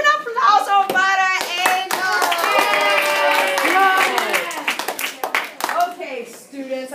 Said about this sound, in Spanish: Clase, un aplauso para